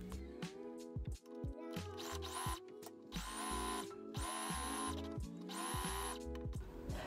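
A sewing machine stitches the front slit of a cottagecore romantic dress in a few loud, steady bursts with short pauses between them, over continuous background music.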